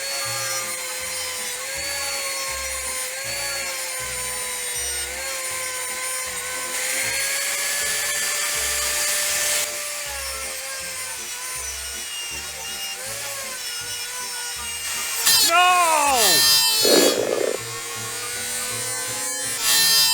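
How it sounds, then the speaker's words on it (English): Metal is ground on a 1937 Airline radio chassis: a continuous high whine with a gently shifting pitch runs for about twenty seconds, and the pitch swoops sharply near the end. "I'm going to have to grind that area so I can get the screw in there."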